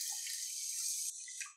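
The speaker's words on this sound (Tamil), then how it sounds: "அதுக்கு வந்து மூணு கப்பு தண்ணி." Water poured into a pot of washed rice, three cups to one cup of grain, for sakkarai pongal; a steady close stream runs for about a second, then trickles and splashes briefly before stopping.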